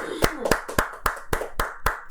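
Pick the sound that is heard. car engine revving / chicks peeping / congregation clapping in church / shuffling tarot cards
congregation clapping in church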